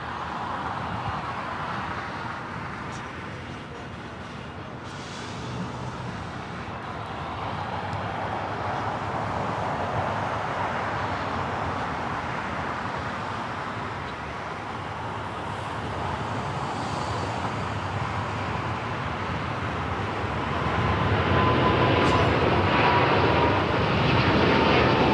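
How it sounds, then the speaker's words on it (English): A British Airways Boeing 777-300ER rolls for takeoff at LAX, its jet engines a loud, sustained roar that swells toward the end, with faint distant road traffic beneath. "we got the British Airways 777-300ER heading back to London Heathrow,"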